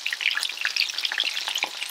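Keto Chow coconut shrimp fry in a pan with a steady, bright crackling sizzle and scattered pops, close and continuous, with no voices.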